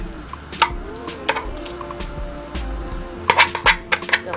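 Lump crab meat lands in a pan on top of a sizzling curry shrimp mixture, bringing soft thuds and scattered clinks of utensil on pan over a low, steady sizzle, a busier cluster near the end.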